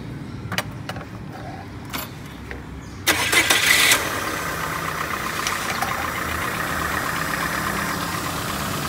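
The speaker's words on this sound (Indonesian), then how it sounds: "Kita hidupkan ya." A Peugeot 206 car engine cranks briefly and catches around the third second, settling into a steady, close idle that runs to the end, with no talk over it.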